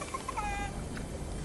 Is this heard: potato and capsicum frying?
no